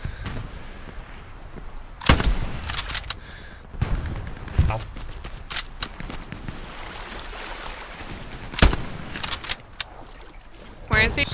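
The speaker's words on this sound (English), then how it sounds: "He's shooting in here already." Gunfire in Hell Let Loose, scattered sharp shots and short bursts at irregular intervals, some loud and close and others more distant, over ambient battle noise with occasional talking.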